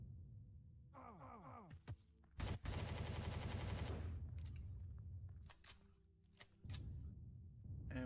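Minigun drone opening fire in the space survival game Empyrion, a loud sustained burst of rapid gunfire dominating the middle of the clip, with shorter shots and game effects around it.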